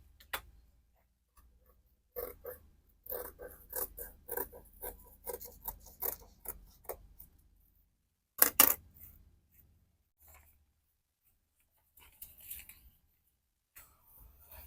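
Scissors cut a paper pattern along an armhole shape for a gipsy maternity dress, making close, crisp snipping clicks in irregular bursts with quiet gaps.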